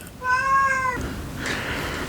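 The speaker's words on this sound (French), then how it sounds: "Ah, c'est le chat qui demande à faire une petite sortie." An indoor house cat gives a single clear, drawn-out meow to be let outside, followed by faint room noise.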